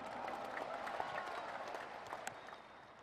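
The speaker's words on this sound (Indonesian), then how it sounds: "Kita berikan tepuk tangan untuk itu." Audience applause at a NasDem party gathering of thousands of cadres, a steady broad wash of clapping from a large crowd that holds evenly throughout.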